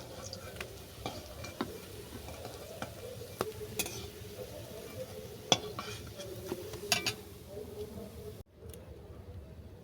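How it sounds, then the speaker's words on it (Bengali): Drumstick-leaf fritters fry in hot oil with a soft, steady sizzle, broken by sharp ticks and scrapes from a spatula against the pan before a sudden cut near the end. "এবার বড়াগুলোকে আমি ভেজে নেব"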